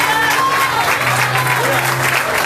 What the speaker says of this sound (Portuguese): aplaudindo o Senhor pela vida dela.